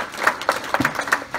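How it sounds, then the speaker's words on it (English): An audience at a peace and prosperity summit plenary session gives a short burst of applause, with scattered distinct claps in quick succession. "Let's give us another round of applause there."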